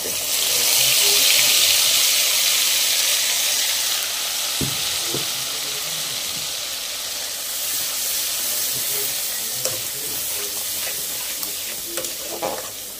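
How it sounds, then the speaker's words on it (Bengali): A tomato, chili and cumin paste hits a hot frying pan with a loud burst of sizzling and hiss that settles into steady frying, with occasional stirring scrapes. "দেখুন, টমেটো, লঙ্কা আর একটু জিরে গুঁড়ো পেস্টটা করে নিয়েছি। এটা দিয়ে দেবো।"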